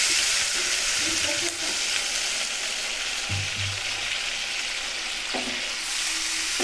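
Katla fish head curry with potatoes sizzles and hisses in a pan as water is poured in, a steady frying crackle with brief splashes and stirring clatter partway through.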